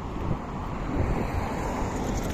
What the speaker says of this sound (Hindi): हल्की हल्की सी हवा चल रही है।